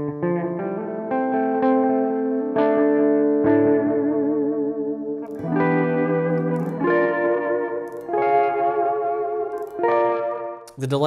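An electric guitar runs through a Moog Minifooger MF Delay pedal with the mix turned all the way up, playing a slow sequence of chords and notes with wobbling, echoing repeats that wash together, steady and fairly loud with no talking.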